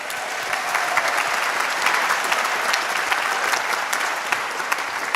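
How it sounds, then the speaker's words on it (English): An audience at a student forum awards event claps for Freedom Award honorees, a dense, sustained round of applause from a large crowd indoors, loud and continuous with scattered sharper claps. "Let's give our Freedom Award honorees another round of applause"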